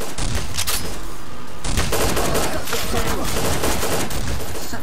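Rapid, loud gunfire rattles almost without pause in the Brainbread 2 video game, dense volleys of close shots packed together, with a voice briefly speaking amid the shooting.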